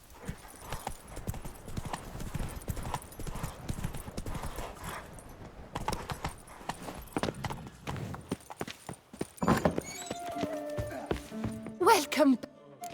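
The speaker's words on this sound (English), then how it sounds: "Whoa there, Roach" Horse trotting in the video game The Witcher 3: Wild Hunt, steady rhythmic hoof clip-clops on the ground, close and continuous, with a voice speaking over them and a whinny near the end.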